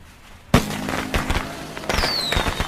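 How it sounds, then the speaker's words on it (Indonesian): Fireworks going off, a sudden loud bang followed by a series of sharp crackling pops and a rising whistle, close by. "Keduanya kemudian bersiap melakukan sesuatu yang besar, yaitu menyalakan kembang api."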